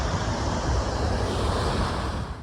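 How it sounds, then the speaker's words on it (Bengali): A waterfall on the Rishikhola river in the Silk Route mountains gives a continuous, close, full roar of rushing water that stays dense and even from start to finish, with no voices. "এই যে ঝর্ণার আওয়াজটা,"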